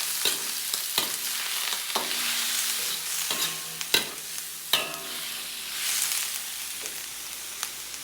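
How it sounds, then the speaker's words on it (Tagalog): Boiled beef intestines are added to a hot pan and fried for adobo, giving a steady close sizzle broken by several sharp scraping stirs and clacks of a utensil, with no talking. "lagyan na natin itong isaw ng baka"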